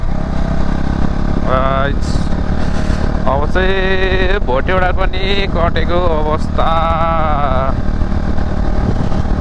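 A motorcycle cruises along a paved pitch road, its steady engine drone running beneath someone talking loudly and continuously over the ride.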